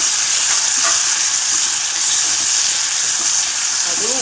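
Tomato sautéing with onion and garlic in oil for a Tamil fish curry sizzles loudly and close, a dense unbroken hiss throughout.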